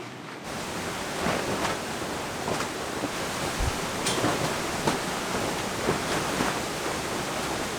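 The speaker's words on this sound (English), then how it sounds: "Windy." Strong wind roars steadily on the Kerala backwaters, buffeting the microphone with gusting surges of broadband noise; no voices.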